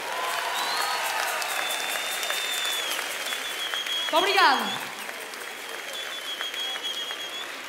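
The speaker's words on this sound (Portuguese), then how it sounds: "Queria que batessem uma grande salva de palmas" Audience applause at a live concert by the Portuguese folk group Minhotos Marotos, steady clapping from the crowd while someone speaks briefly over it, with a sliding musical tone in the middle.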